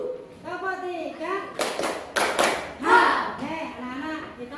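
Schoolchildren in a classroom chant a clapping chant together, with a short cluster of loud, crisp claps between their sung phrases.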